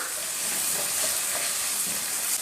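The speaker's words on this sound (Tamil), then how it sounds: "இப்போ இதில் 3 பச்சை மிளகாவும் கொஞ்சமாக கருவேப்பிலையும் சேர்த்துடலாம் சேர்த்துட்டு நல்லா வதக்கிடலாம்" Green chillies and curry leaves sautéing in an oiled pan for a brinjal and broad bean sambar, a steady dense sizzle with faint stirring scrapes, continuous and close throughout.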